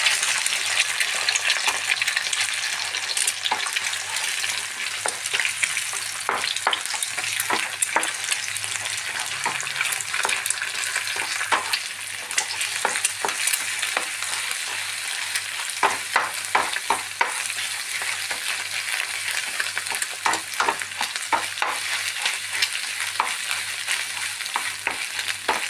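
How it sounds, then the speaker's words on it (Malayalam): Okra and egg fry in a hot pan, with steady sizzling and frequent scraping stirs throughout, close and loud with no talking. "നമുക്ക് പൊരിച്ചെടുക്കണം."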